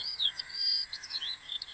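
Birds chirp and tweet in quick, high, overlapping calls beside a hill river in Sunamganj, a steady bright twittering with no talk.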